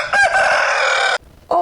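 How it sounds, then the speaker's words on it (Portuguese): A rooster gives one loud, close cock-a-doodle-doo, then a short pause before a second crow begins and is cut off. "E o galo saiu fazendo seu cocoricó bem alto. Vamos ouvir mais uma vez o galo cocorijando?"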